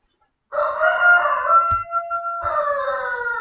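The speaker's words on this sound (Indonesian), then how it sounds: "ada ayam ya" A rooster crows loudly and clearly nearby, one long drawn-out cock-a-doodle-doo that starts abruptly after silence and holds a bright, wavering tone to the end.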